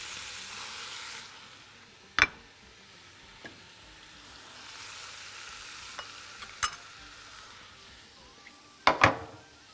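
Minced meat with grated onion, nutmeg, black pepper and salt sizzles softly in a pan, with a few sharp spoon knocks against the pan scattered through the quiet frying.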